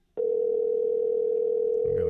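A steady, unbroken telephone dial tone sounds clearly after a click, holding on for about two seconds before a faint murmur at the end.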